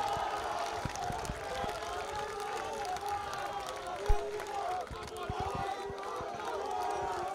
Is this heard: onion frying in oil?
no